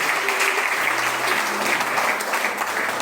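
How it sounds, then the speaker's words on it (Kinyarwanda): Congregation applause at a church Christmas service, a steady wash of clapping from many hands filling the room without pause, fairly loud and even throughout. "reka twongere dufatanye tubakomere amashyi turashimire"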